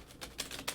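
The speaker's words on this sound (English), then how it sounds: "So I'm shuffling the cards, and I'll shuffle them one more time." A deck of Adinkra oracle cards is shuffled up close, giving three quick, crisp papery snaps in under a second, with no talking.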